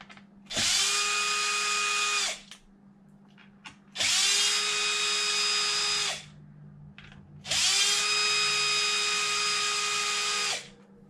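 A cordless power drill whirs in three separate bursts of about two seconds each, loud and close, while it removes the front-end bolts from an Arrma RC car chassis. Short quiet gaps separate the runs.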